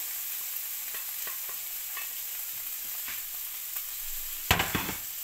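Onions fry in a pan while being stirred for a chicken and fresh tomato dish, giving a steady sizzle with scattered soft scrapes and a sharper clatter near the end, close and without talk.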